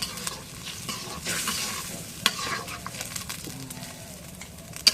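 Beef pieces with garlic paste and salt being stirred in a hot pan, a continuous sizzle broken by scraping strokes and a few sharp clinks of the spoon against the metal, with no talking.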